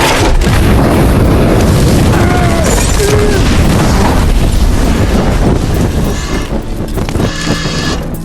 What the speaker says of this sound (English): The burning trusses fell down, blocking all exits.